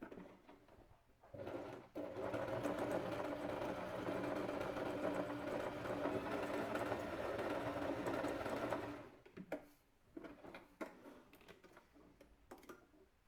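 A household sewing machine stitches stretch fabric in a steady, close whirring hum of about seven seconds, with a few handling knocks and clicks before and after it.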